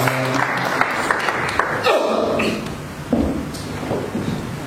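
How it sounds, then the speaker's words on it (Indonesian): A church congregation claps for the service servers during a Sunday sermon, producing a dense, sustained burst of applause that fills the room for several seconds with steady loudness, with a brief swell near the end and a few low thumps mixed in. "Mari kita beri tepuk tangan buat pelayan."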